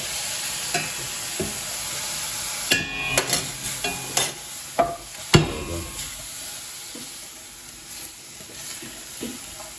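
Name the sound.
prawn stock added to a sizzling pan of prawns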